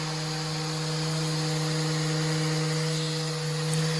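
Electric sander running on scrap wood, a steady continuous motor whine with an even buzzing hum throughout, fairly close and alone without talk.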